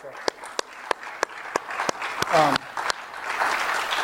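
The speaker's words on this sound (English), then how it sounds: "I do want to give the election officials who helped us with this a round of applause before we get started" A conference room audience at a voting security event gives election officials a round of applause, starting with a few sharp, spaced individual claps that build into broader clapping with a voice briefly heard.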